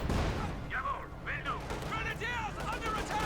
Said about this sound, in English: Another rocket strike there. Heavy rocket strike there.